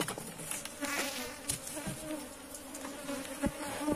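Agitated honeybees at a beehive buzz in a dense, steady drone close by, with sharper whines as single bees pass near and no talk.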